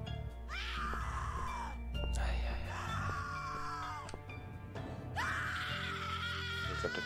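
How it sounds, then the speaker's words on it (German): Screams from the horror video game The Cat Lady: three long, wailing cries that rise and fall in turn over a low, droning background, loud and close. "Oh Gott, der Schrei."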